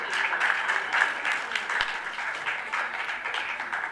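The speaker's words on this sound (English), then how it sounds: "Keep clapping, please." Audience applause at a union conference address, crisp clapping that rises and dips while voices carry over the top of it.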